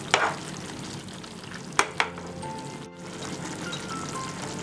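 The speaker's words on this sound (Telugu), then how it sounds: "మూత తీసుకుని ఒకసారి కలుపుకుందాం" Prawns and raw mango curry being stirred in a pot, with a spoon clattering against the metal a few times over a steady background hiss.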